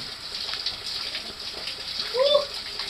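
Water flowing in the Algar dos Carvalhos cave, a steady hissing gush with a faint splash near the end and a brief voice in the background.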